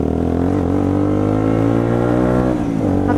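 A motorbike engine runs close and loud, its revs climbing steadily in a rising drone before a brief dip and pickup near the end, with no talk.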